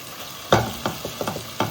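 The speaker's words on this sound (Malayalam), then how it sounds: "വീണ്ടും എല്ലാം കൂടെ ഇളക്കി കൊടുക്കുക" Stirring a pan of masala with Kashmiri chilli and garlic paste: a few separate scraping strokes of a spoon against the pan over a faint sizzle, close by, with no talking.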